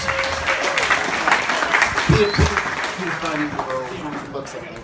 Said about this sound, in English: Ladies and gentlemen, Gary Jones. Give him a round of applause.